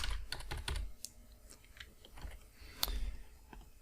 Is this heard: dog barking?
no